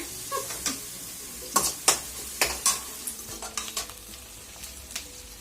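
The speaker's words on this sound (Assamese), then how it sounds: "পিঁয়াজখিনি অকণমান ব্ৰাউন কালাৰ হ'ল" Onions browning in a pan for pulao, with a spoon stirring and scraping in irregular sharp strokes over a faint background sizzle.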